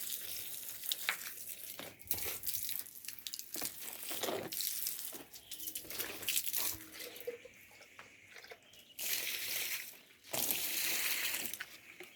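Water running from a leaking pipe onto rooftop garden plants in mostly compost soil, a steady splashing hiss that rises and falls in bursts as the flow moves, with no talking.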